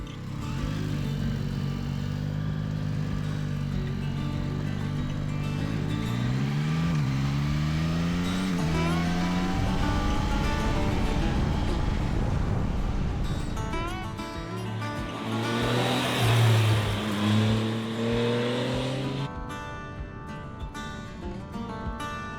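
Yamaha Tracer 9 GT and GT+ motorcycles riding a Swiss mountain pass, with the engine note rising and falling in pitch through repeated gear changes and acceleration. It is loud and close, with wind rush, and no voices.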